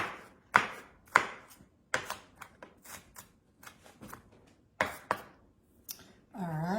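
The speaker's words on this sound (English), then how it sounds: "Let's finish chopping up this onion" A knife chops onion on a cutting board in uneven, sharp strikes with short pauses between, close by, ending in a brief scraping sound.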